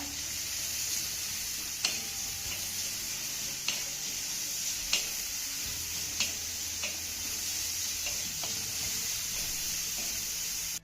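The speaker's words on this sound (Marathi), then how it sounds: "कांदा आपल्याला छान असा मौसूत होईपर्यंत परतून घ्यायचा आहे" Finely chopped onion sautés in hot oil for a grated bitter gourd dish, giving a continuous loud sizzle broken by periodic spatula taps and scrapes against the pan, with no speech.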